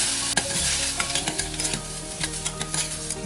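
Onions sauté with salt in a pan for a mutton curry, frying with a loud continuous sizzle while a utensil stirs and scrapes in quick repeated strokes, close up with no talking.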